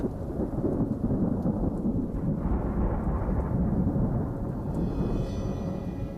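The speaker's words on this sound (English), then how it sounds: "As the summer turns, storms roll in." A summer thunderstorm over a swamp: deep, continuous rumbling thunder rolls beneath steady heavy rain, loud and sustained throughout with no voices.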